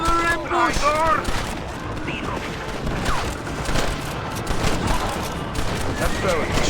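Gunfire crackles through an ambush in Red Dead Redemption, rapid overlapping shots and bursts in dense volleys that run the whole stretch, with brief voices mixed in.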